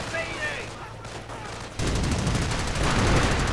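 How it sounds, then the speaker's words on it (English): In a Company of Heroes match, a Stu-42 fires as a dense rattling fusillade of gunfire that grows louder halfway through, mixed with battle noise and a voice talking over it. "Stu-42 keeps firing, keeps killing somewhat"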